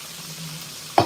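Chicken fried steak sizzles in a pan with a soft, steady frying hiss, and a brief louder crackle bursts out near the end; no one speaks.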